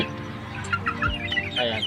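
A flock of grown backyard chickens clucks and chatters close by, with overlapping calls and short squawks blending into a steady, busy farmyard racket with no talk.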